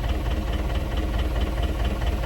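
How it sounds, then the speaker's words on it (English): Farm tractor engine on a Kentucky hay field, running slowly in low first gear on the turtle setting while mowing, a loud, close, steady low rumble with a faint rhythmic knock, no voices. "this tractor's got a high and a low, and a rabbit and a turtle, and it's on the turtle and it's on low in first gear"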